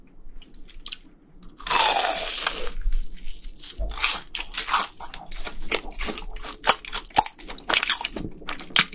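A crunchy Korean BHC cheese ball is bitten with a loud close crunch, followed by a run of wet, crackling chewing sounds in a quiet room.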